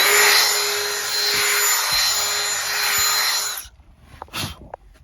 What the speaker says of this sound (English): give it a little countersink like that, and that helps also.